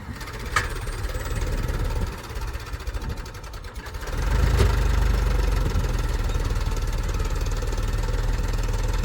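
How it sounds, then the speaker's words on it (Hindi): Farm tractor engine running at a low, steady idle close by, a continuous rumbling drone that grows louder and heavier after a few seconds, with no talk over it. "डोली भरने के बाद अब ट्रैक्टर को लाएंगे धीरे धीरे।"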